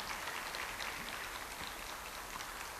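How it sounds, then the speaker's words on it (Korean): Faint, steady clapping from an audience thanking a lecturer at the close of a 2021 Yeosu public officials' academy special lecture; a soft, even patter with no voices over it. "강기정 정무수석님께 다시 한번 감사의 박수를 부탁드리겠습니다"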